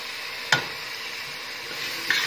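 Spinach frying over high gas in a pan gives a continuous hissing sizzle, broken by two sharp stirring scrapes or knocks of a spoon.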